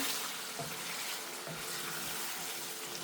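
Meat cooking in a pot for biryani gives a continuous low sizzle with faint stirring, quiet and steady, with no talking.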